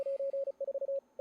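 Morse code CW radio signal from amateur station N6EP in the ARRL Sweepstakes, a clear single-pitch tone keyed in short dits and longer dahs, moderately loud and alone.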